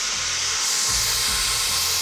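Cooling fan of a hot-running Harley-Davidson motorcycle whirring steadily up close, a loud continuous airy hiss with a low rumble underneath and no talking.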